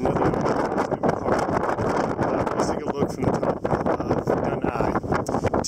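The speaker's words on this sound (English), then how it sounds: "It's windy" Strong wind on a hilltop on the Isle of Iona rumbles and buffets the microphone in gusty bursts, heard under someone speaking throughout.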